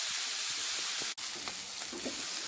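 Vegetables being stirred while frying in a pan for pulav, a steady broadband sizzle throughout with faint scraping strokes and one brief gap near the middle, close and moderately quiet, no talking.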